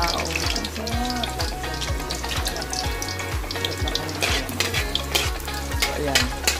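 Shrimp paste (bagoong) sautés in hot oil for kare-kare, a steady close sizzle with stirring scrapes and a rhythmic low thumping running through, faint voices in the background.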